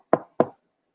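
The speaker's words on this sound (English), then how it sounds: "There was a polite little knock." Two quick, light knocks on a door, evenly spaced and close, followed by silence.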